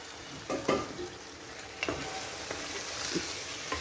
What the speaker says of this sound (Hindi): चिकन को भी इसमें अच्छी तरह से भूनेंगे